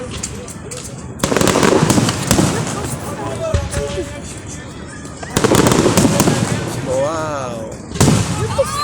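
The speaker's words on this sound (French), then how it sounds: "un beau feu d'artifice." Fireworks explode in loud overlapping bursts, crackling and booming in waves with whistling rises, while people talk and exclaim over the noise.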